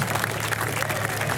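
Audience applause at a BBQ Wars 2018 competition awards ceremony, a steady dense wash of clapping from a crowd, loud and unbroken for the whole moment.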